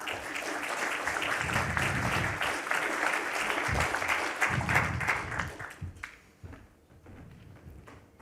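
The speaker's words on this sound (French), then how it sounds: "On peut l'applaudir pour le mot d'introduction." An audience at an ESG conference claps for an introduction speech, a sustained round of applause that fades to scattered claps.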